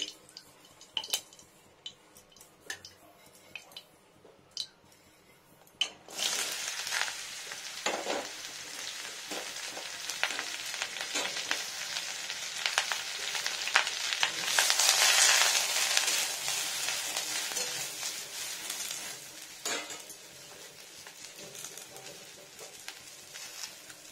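Thin slices of pointed gourd hit hot mustard oil, and a quiet crackle builds into a loud, steady sizzle that swells, then settles down. Scattered clicks and scrapes of stirring sound over the frying, with no voice.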